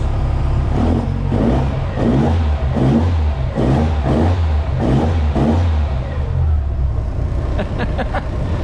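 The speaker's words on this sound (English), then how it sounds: "See, that's a really good idle there, but then it sort of idles up a little bit." Nissan Sunny truck (Datsun 1200 Ute) engine running close up on a dyno, a steady idle with a regular pulsing rise and fall, then settling, with a few sharp clicks near the end.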